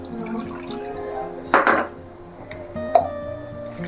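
Water is poured into a blender jar holding an egg masala curry mixture, a short splash with glassy clinks and a second brief knock afterward, close and fairly quiet.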